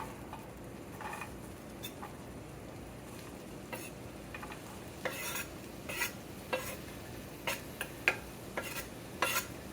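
Onions and jalapenos stirred in a hot pan, a soft steady sizzle under scattered scraping and clinking of a utensil against the pan, growing more frequent toward the end.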